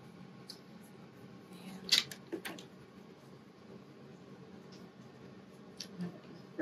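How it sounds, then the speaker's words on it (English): Scissors snip loose threads from a freshly sewn wireless bra, a couple of short, sharp cuts near the start with fainter handling clicks later, quiet and close. "Trim my threads."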